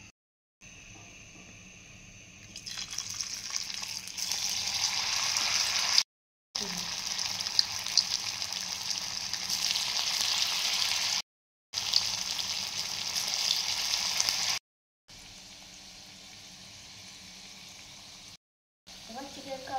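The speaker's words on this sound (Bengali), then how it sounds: "এবার আমি তেলে ভেজে নেব।" Chicken kebabs fry in hot oil in a wok, giving a steady, loud hiss. The sizzle runs in long stretches broken by a few brief silent cuts.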